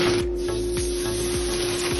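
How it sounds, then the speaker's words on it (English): Steady, soft sizzling from thick rib eye steaks searing in a hot pan, with faint rhythmic scraping or stirring repeating every half second beneath the hiss. "there should be a little sizzling sound, not too loud, because these are very thick steaks"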